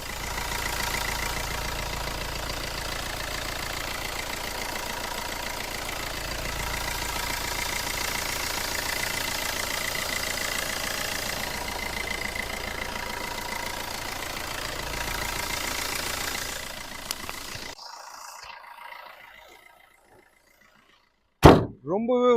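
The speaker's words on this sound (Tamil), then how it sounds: "இப்போ வண்டியோட இன்ஜின் நாய்ஸ் நான் உங்களுக்கு மைக்கை பக்கத்தில் வச்சு எப்படி இருக்குன்றதை காட்டுறேன்" The diesel engine of a 2011 Fiat Linea Emotion idles steadily up close for about seventeen seconds, a constant even rumble. It then cuts to near silence, and a single sharp thud lands at the very end.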